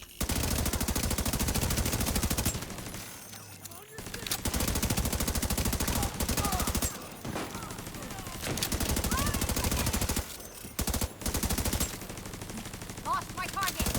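Turret in a video game firing long, loud, continuous rapid-fire streams, broken by short pauses between bursts, with faint speech beneath.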